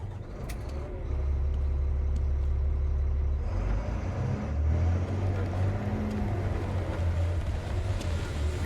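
A truck engine in the video game Batman: Arkham Knight rumbles low and steady, rising in pitch partway through, with faint clicks and background effects around it.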